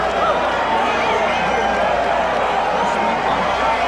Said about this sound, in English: The crowd has kept up a bedlam since this fight started.